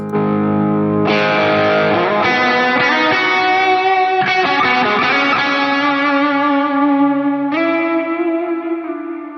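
A distorted electric guitar lead tone from a Line 6 POD Go plays sustained notes and bends, drenched in reverb and echo, loud and continuous with no voices.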